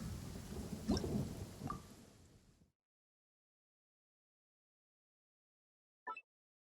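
A thunderstorm with a deep thunder rumble and rain that fades out over a couple of seconds, then silence broken by one faint, brief crackle.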